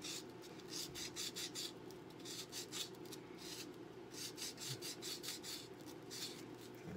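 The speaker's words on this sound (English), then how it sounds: "Once again, with my file, my sandpaper." Hand filing and sandpapering a coin ring, a faint, rhythmic back-and-forth rasping of repeated strokes at close range.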